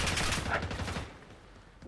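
Rapid bursts of gunfire in the video game Call of Duty crackle densely for about a second, then thin out to a quieter background before a fresh burst at the end.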